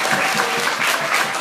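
Audience applause at a committee hearing, a short burst of clapping from a small crowd in an indoor room, steady and fairly close, with no talk over it.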